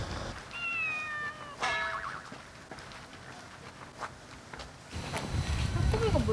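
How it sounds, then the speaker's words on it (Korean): A cat meows a few times outdoors beside a dog grooming salon during a dog walk, thin and short against street noise and footsteps, with a louder rustling burst toward the end. "고양이 소리가 나서 확인하는 것도 있고"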